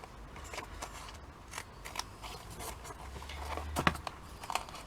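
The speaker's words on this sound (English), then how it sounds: "I'm just going to cut the actual spine itself out" Scissors snipping through the spine of a worn Ladybird book being made into a junk journal, quiet crunching cuts with papery rustle, close and soft, alone.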